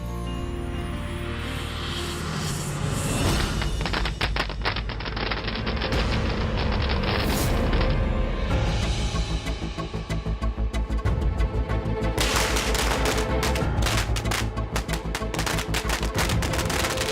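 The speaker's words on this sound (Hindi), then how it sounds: "अरे ये ढोल पटाखों की आवाज कहाँ से आ रही है?" Dhol drums pound with bursts of firecrackers at a street wedding procession, a dense, loud, continuous clatter of beats and crackling pops with sharp bangs throughout.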